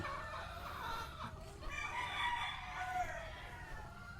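Chickens on a farm, with a rooster crowing over a steady background of clucking hens, the calls rising and falling across the whole stretch at moderate distance.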